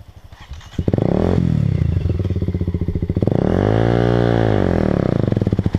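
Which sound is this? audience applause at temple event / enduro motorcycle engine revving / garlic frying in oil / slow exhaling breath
enduro motorcycle engine revving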